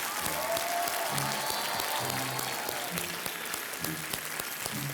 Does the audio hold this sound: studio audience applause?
yes